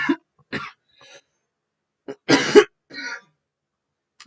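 Several harsh coughs and throat-clearing bursts come in short, uneven fits separated by silence, close and loud, with the strongest cough in the middle.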